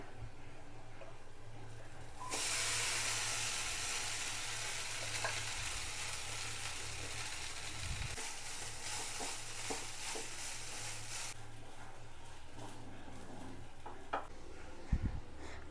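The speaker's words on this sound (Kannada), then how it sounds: "ಇವಾಗ ನಾನು ಇದಕ್ಕೆ ರೈಸ್ ಹಾಕ್ತಾ ಇದ್ದೀನಿ" Rice tipped into a hot pan of seasoned herb rice base and stirred, giving a steady broadband frying sizzle that holds from start to finish with scraping ticks from the stirring, and no talk.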